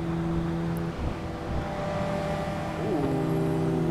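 Cars in a Tokyo highway racing game cruise with steady engine drone and a rising rev as one rips past, continuous and moderately loud throughout.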